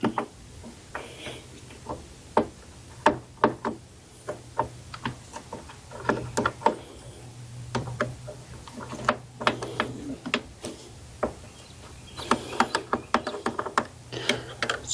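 Screws being backed out of an Alpine Blueridge mini-split air conditioner, with rapid ratcheting clicks and small metallic ticks in irregular bursts, fairly close and quiet, alongside faint handling noises.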